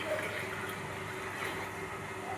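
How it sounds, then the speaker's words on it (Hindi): Water steadily filling a household air cooler, a continuous gushing, splashing pour that holds level and close throughout with no talk over it. "एक कूलर भर रहा है"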